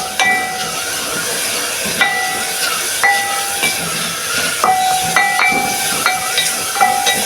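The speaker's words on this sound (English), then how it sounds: "I'm adding oil already." Cooking oil poured into a hot pan hisses and sizzles steadily throughout, at a fairly loud level and close by, with bright intermittent clinks and scrapes along the way.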